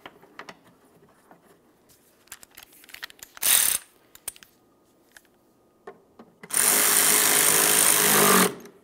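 A ratchet snugs 8mm mounting bolts on a Ford Flex tail light, giving sharp clicking bursts: a short run near the middle and a longer, louder stretch toward the end, with scattered quiet tool handling between.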